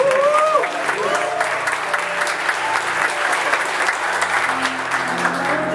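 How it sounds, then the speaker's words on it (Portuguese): An audience applauds steadily throughout a church certificate ceremony for newly baptized members, a dense sustained clapping with a few voices heard briefly at the start. "Olha aí, vamos aplaudir."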